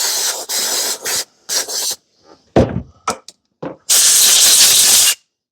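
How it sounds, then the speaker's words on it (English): Brake cleaner spray and an air hose blast at a Troy-Bilt lawn mower in a series of sharp hissing bursts, several short sprays, a brief clatter mid-way, then a long final blow, close and loud. "Let me clean this up a little bit with some brake cleaner air hose."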